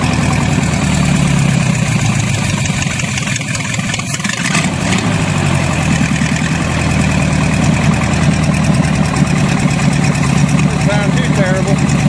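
A 350 small-block Chevy V8 idles steadily and up close throughout, its continuous rumble with a rough, slightly knocking edge from a suspected carburetor or choke problem, with people talking over it.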